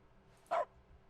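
A single short dog bark from the video game The Stanley Parable in its dog mode, one clear, close woof over a quiet background hum.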